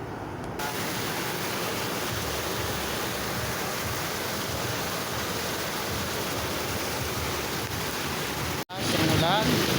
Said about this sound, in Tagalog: naabutan tayo ng pagkalakas, buhos ng ulan